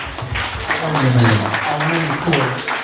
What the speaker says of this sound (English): Y'all clap it up for that